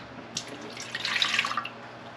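Milk, 240 ml, is poured into a measuring cup for bread dough, a soft steady trickling splash that builds midway and then tapers off, faint over a low background hum.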